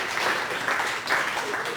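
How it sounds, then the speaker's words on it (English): Seminar audience at a real estate marketing talk claps for both groups: a brief, fairly soft patter of applause from a modest crowd, steady for under two seconds. "Let's give it a round of applause"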